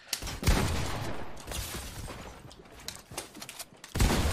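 Fortnite gunfire, including pump shotgun blasts, in bursts of sharp broadband shots spread over the stretch, loud and close, with game ambience and no talk.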